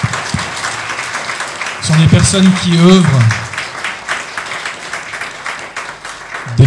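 Conference audience applauding a table of speakers at the end of an evening event, a broad rustling wash of clapping that runs beneath someone talking in French and swells again briefly at the close.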